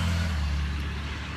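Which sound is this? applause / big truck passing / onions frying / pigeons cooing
big truck passing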